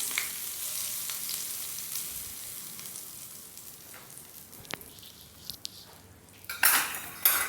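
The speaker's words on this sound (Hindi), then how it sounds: "और ये तड़का हम डाल देंगे फुल्की में" Hot oil tempered with cumin seeds and red chilli powder is poured into dahi phulki, giving a steady soft sizzle with light clinks of utensils and a louder crackling burst near the end.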